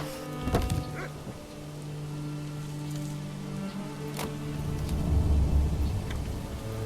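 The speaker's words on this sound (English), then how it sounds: "it's raining on my food and it's taken me so long to get it put away." Steady rain falls over a medieval village in the Manor Lords city-building game, a soft continuous patter with occasional faint background thuds and tones, moderately quiet throughout.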